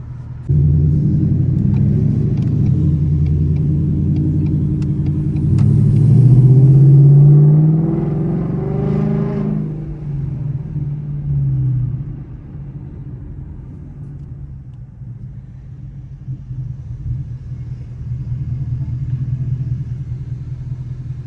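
A Ford Mustang GT engine rumbles low and steady from inside the car on a downtown drive, swelling briefly as it accelerates, then settling into a quieter idle-like drone.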